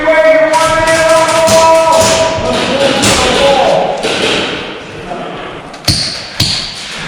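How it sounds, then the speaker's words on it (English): Airsoft BBs strike the body of a van during an airsoft game, heard as a couple of sharp, isolated thuds late on against a busy background of outdoor noise and movement. "Because they're shooting through the van."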